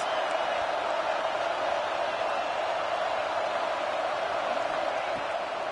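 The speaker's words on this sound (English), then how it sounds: "Listen to this crowd just shaking the girders of this place, trying to help their defense" A football stadium crowd roars steadily at a Penn State versus Michigan game, a dense, sustained wall of noise urging on the defense, loud and unbroken throughout.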